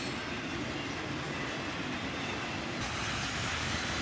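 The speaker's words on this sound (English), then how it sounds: "the tail end of this train passes us by" A long freight train with autorack cars rolls past close by, a steady loud rumble of wheels on rails with faint clickety-clack and no voices.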